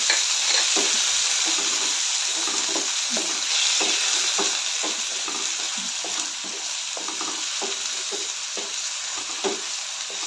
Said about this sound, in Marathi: कांदा चांगला परतून घ्यायचा आहे आता यामध्येच मी एक छोटा बटाटा चिरून घेतलेला आहे ते ते पण यामध्ये आपण परतून घेऊया